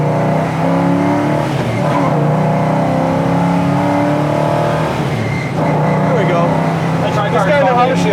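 A 1966 Pontiac GTO with tri-power carburetion and a Hurst shifter, its engine loud and close inside the car, revving up and dropping between gear shifts, with voices talking over it.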